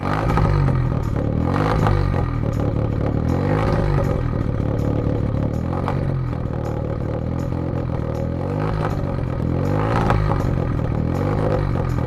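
A misfiring car engine with a faulty ignition coil, spark plugs or injectors, revved with the accelerator: a loud, close, uneven drone that runs rough and lumpy throughout, with no voices.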